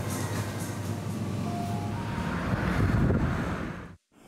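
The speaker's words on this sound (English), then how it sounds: "The wind has really kicked up here in Berlin" Strong gusts of wind in Berlin buffet the microphone in a loud, continuous roar that swells toward the end, then cuts out abruptly just before the clip ends.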